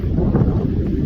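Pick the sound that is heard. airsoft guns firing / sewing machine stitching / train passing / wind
wind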